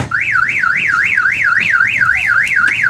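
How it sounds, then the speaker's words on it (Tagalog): A latest-model Hyundai Accent's car alarm wails alone at close range, a loud, steady warbling tone that sweeps up and down about three times a second without a break. "mag-alarm na."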